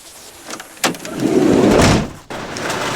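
A door slides and thuds shut with a short bang, followed by a muffled rumbling swell, then a second firm knock as it closes.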